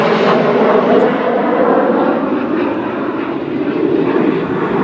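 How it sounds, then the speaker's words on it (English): A fixed-wing airplane passes overhead with a loud, steady, broadband engine roar that holds for the whole stretch and eases only slightly toward the end. "Would you want to get a picture of the plane?"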